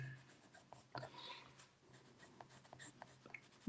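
A watercolor pencil drawing outlines on paper makes soft, close scratchy strokes in short bursts, quiet and dry against a faint steady hum.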